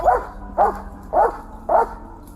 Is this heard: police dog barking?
yes